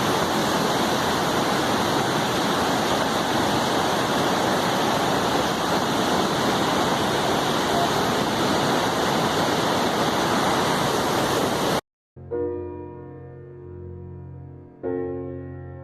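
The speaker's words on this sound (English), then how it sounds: "below the bridge flows a stream of fresh water coming from the melting glacier above" Glacial meltwater stream rushing beneath a bridge in Turtuk, Ladakh: a loud, steady broadband roar of churning water that runs unbroken for about twelve seconds, then cuts abruptly to quieter, tonal background sounds.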